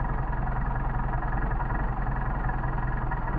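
A Mercedes 190SL engine idling on Solex carburetors on a cold 29°F day, a steady low rumbling idle close by with even pulsing and no talk.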